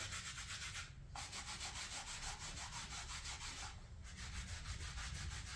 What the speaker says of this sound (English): we're just gonna target those stained areas just by wiping it like so